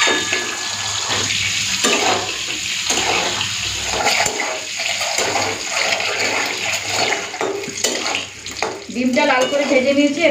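Egg frying in hot oil seasoned with salt and turmeric, a continuous bubbling sizzle with irregular crackles and a brief louder spatter near the end.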